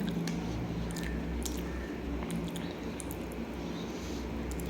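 Soft, wet chewing of pathiri with curry, close to the mouth, a steady run of squishy mastication over a low constant hum with no talking.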